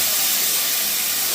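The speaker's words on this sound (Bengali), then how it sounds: "পেঁয়াজটা বেশি ভাজা হয়ে গেছে, তাই একটু পানি দিয়ে দিলাম" Water hits over-fried onions in a hot pan, cooking with ginger and cumin for a beef liver bhuna, giving a loud, close burst of steamy hiss that holds steady throughout.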